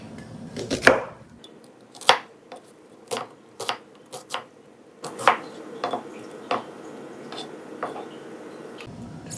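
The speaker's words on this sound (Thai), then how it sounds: "หอมหัวใหญ่นี่จะหั่นเป็น" A knife chops an onion steadily on a cutting board, crisp close knocks in an irregular rhythm of roughly a dozen strokes, with brief pauses between bursts.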